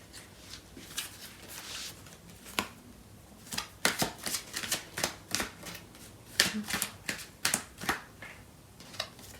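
Tarot cards being shuffled at close range during a love reading, a series of sharp riffling bursts and soft card slaps in an irregular rhythm, quiet and alone.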